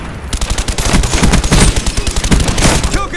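Suppressed Commando rifle fire in Call of Duty: Black Ops on the Nuketown map, loud, dense bursts of rapid automatic shots with overlapping game gunfire throughout and no speech.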